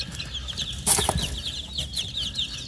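Fluffy young chicks hatched from a mixed pasture flock, heard as a steady scatter of soft high peeping and cheeping, close by, with a brief louder flutter or rustle near the one-second mark.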